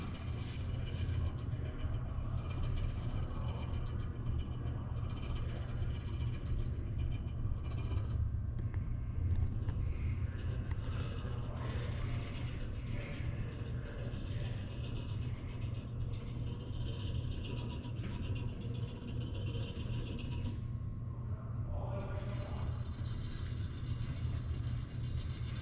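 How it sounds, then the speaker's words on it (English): An air conditioner unit powering up while its expansion valves cycle fully open and closed, giving a steady low mechanical hum and rumble with faint clicking and ratcheting sounds throughout. "when we powered up the unit, all the expansion valves are going fully open, fully closed, fully open to make sure that they're in the right position"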